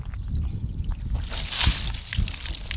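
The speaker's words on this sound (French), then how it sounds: "juste là je vais balancer de l'eau" Water splashes and pours across the bonnet of a BMW 530d E39 just after washing, a brief mid-clip gush over a low rumble, close by.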